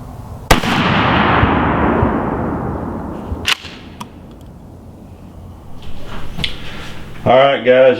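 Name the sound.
Remington 870 SPS Super Mag shotgun firing TSS shells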